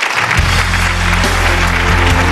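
A television talk-show studio audience claps steadily as a guest is welcomed on stage, a dense, loud wash of applause with music or tones sounding beneath it.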